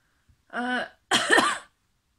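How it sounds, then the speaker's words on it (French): Two harsh coughs, close to the mic, each a rough throaty burst about half a second long separated by a brief pause. "je suis emmerdée avec cette toux"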